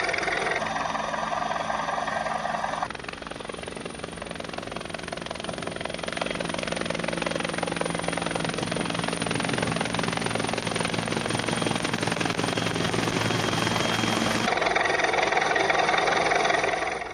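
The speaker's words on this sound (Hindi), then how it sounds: "हेलीकॉप्टर से लोगों का रेस्क्यू किया गया है।" A rescue helicopter lifting people stranded on an island in a flooded river flies overhead, its steady rotor and engine drone holding loud and continuous for the whole stretch, with a brief lower patch early on.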